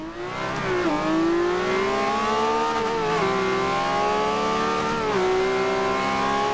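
A car accelerates hard in Forza Horizon 2, played on a steering wheel, with a loud, sustained engine whine that rises through the gears and dips at each shift, steady and up close with no talking.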